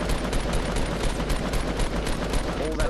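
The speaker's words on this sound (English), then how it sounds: "Got a minigun left of us." A minigun in a shooter game fires nearby as a dense, unbroken rattle of rapid shots at steady volume, with brief speech mixed in.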